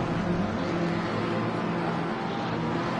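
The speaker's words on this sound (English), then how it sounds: "We've got cars doing donuts on the main straight." Continuous engine roar of racing cars doing donuts on the main straight in a video game, Indianapolis circuit, steady and loud, with a broad whine that never lets up.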